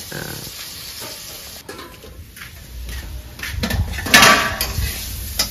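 Vegetables fry in oil in a kitchen pan, a faint hiss at first that swells into louder sizzling with a clatter of a utensil against the pan near the end.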